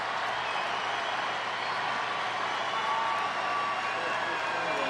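A baseball stadium crowd at a Cardinals–Diamondbacks game roars in a steady, dense wash of cheering and applause as Albert Pujols steps up to pinch hit, loud and continuous across the whole stretch.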